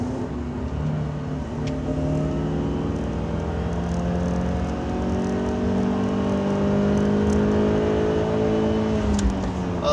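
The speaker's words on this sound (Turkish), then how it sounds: "motorun sesi de 4 silindirli motorlar içinde en güzel olan seslerden birisi" A BMW E46 316i four-cylinder engine revs steadily upward, its pitch climbing smoothly over several seconds at close range, loud and unbroken.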